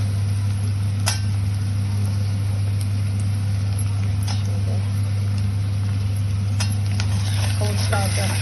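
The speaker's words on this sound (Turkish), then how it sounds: "doğramış olduğum soğanları e, zeytinyağıyla soteliyoruz." Soft, steady sizzling of chopped onions and carrots sautéing in olive oil, with occasional light clinks and stirring sounds over a constant low hum.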